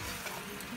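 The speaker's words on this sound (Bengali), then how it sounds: "এখন মশলাটাকে একটু ভালো করে কষিয়ে নিতে হবে" Spice masala for a catfish curry frying in a pan, a steady close sizzle and bubbling hiss, moderately quiet and brief.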